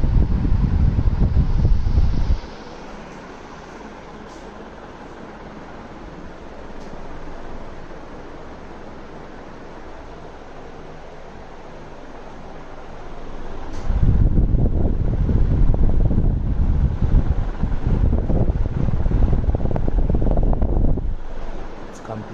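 A brown Crompton High Speed 48-inch (1200 mm) ceiling fan running at speed 5 gives a loud, steady rushing wind noise that drops to a softer, quieter hum for a long middle stretch before surging back up.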